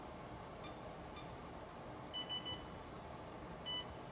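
A few short electronic beeps sound in quick succession from an oven timer being set, followed later by another beep, over a quiet background hum.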